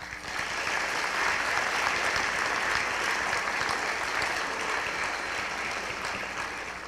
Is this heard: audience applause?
yes